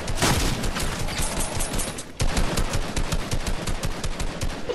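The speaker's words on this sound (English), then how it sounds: "I'm shooting him!" Rapid gunfire from the video game Fortnite crackles in dense, loud bursts, with a brief pause partway through before the shots resume at the same fast rhythm.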